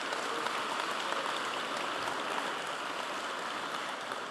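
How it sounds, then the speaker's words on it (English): Audience applause at a Harris County Sheriff's Office commendation ceremony: a dense, steady wash of many hands clapping, sustained at even loudness throughout with no voices over it. "Let's give him a round of applause."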